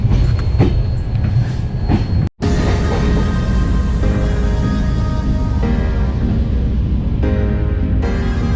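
Continuous loud rumble of a passenger express train running on tracks between Kanpur Central and New Delhi, with steady rolling noise and faint wheel clatter, briefly cut to silence once before resuming.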